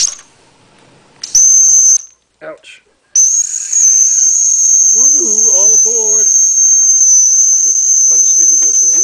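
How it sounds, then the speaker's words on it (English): A small steam donkey boiler's whistle blows a loud, steady, high shriek that holds for several seconds after a brief first blast and a pause, with hissing steam and people talking faintly underneath. "Here's the whistle."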